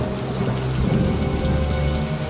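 Heavy rain pouring in a flood, a loud, dense, unbroken hiss of falling water close by and steady throughout.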